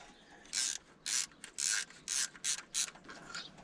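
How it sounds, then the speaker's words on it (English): Repeated ratcheting bursts, about seven quick sets, as a bolt is threaded in while replacing the fuel pump on a 1972 Ford pickup, close and clear with no talking. "Put in that second bolt. Or thread it in at least."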